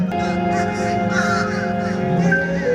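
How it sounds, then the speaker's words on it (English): Several crows caw repeatedly overhead at Epcot theme park, harsh calls at a moderate distance over a steady hum of background noise. "can you hear those crows up there?"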